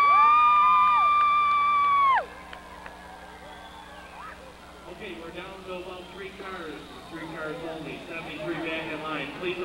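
Demolition derby crowd in Essex, Vermont, 1992, cheering, whooping and clapping for car 73. A loud, steady tone cuts off after two seconds, then the crowd noise builds slowly and stays moderate with shouts scattered through it.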